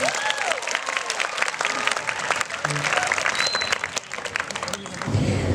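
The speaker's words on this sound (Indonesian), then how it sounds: "Kita kasih aplaus untuk kita semua" A crowd claps enthusiastically for students at an Indonesian school clean-up day event, a dense, sustained round of applause with voices and cheers mixed in throughout.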